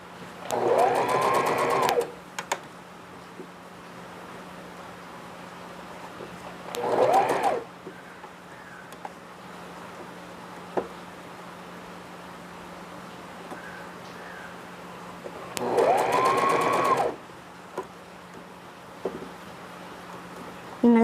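Sewing machine stitching piping onto a simple everyday baby frock, running in three short bursts of about two seconds each with quiet pauses between them.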